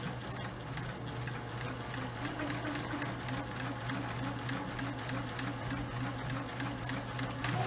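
A sewing machine back stitches fabric for a storage box, with a close, steady mechanical whir and rapid needle clatter running continuously without pause.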